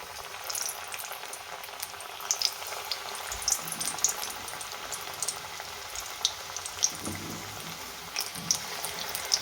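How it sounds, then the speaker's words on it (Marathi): Spinach bhaji fritters dropped into hot oil and frying, a steady bubbling crackle with scattered sharp pops and a few soft thumps, close and fairly quiet with no talk. "आता तेल गरम झाले, आता आपण भजी आहेत ते सोडूया."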